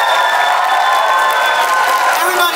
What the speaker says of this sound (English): everyone back there deserves a round of applause